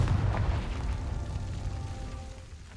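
A Confringo spell explosion in Hogwarts Legacy, a heavy, rumbling boom that fills the low end, then fades over about three seconds.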